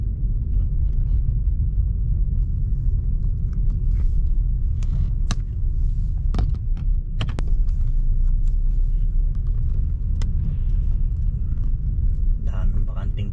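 A car rolls slowly through the streets of Northwich in search of a parking space, a steady low road rumble filling the cabin with occasional small clicks and knocks while someone talks over it.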